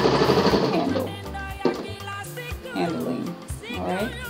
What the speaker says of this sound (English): we're just going around sewing this waistband, which is 2 layers, onto our skirt, which is just 1 layer